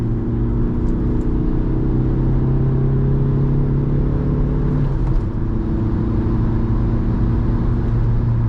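A 2005 VW Passat B5 with a 1.9 TDI diesel accelerates hard in second gear on a motorway, giving a loud, steady engine drone and road rumble from inside the car, with a brief gear change midway.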